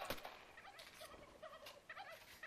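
Turkeys gobbling in the zombie survival game How to Survive 2, a busy, warbling cluster of overlapping gobbles from several birds, fairly close and steady across the moment with no talk over it.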